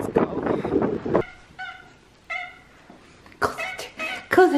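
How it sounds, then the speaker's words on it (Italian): A small kitten gives two short, thin meows in a quiet gap, framed by someone talking close by before and after. "sono tornata a casa, sì, da Gatto Denver. Oddio, Gatto Denver. Ma quanto sei piccolo, carino"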